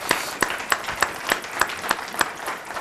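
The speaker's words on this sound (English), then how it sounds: "Let's give them one more round of applause." Audience applause at a county Board of Commissioners meeting for a high school program, steady clapping from a modest crowd with a few sharp, regularly spaced loud claps standing out near the front.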